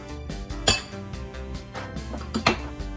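Lettuce, tomatoes, carrots and beets are tossed together for a Cajun lobster salad, with repeated clinks and clatters of utensils against a bowl, close and brisk.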